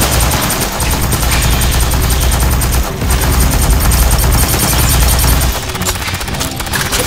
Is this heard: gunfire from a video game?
yes